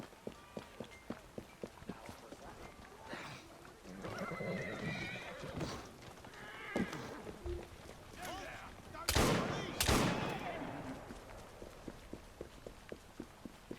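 Horse-drawn carriage in Assassin's Creed Syndicate: rhythmic clip-clop of hooves runs throughout, with a horse whinnying, rumbling wheels and a couple of sharp bursts like gunshots near the end.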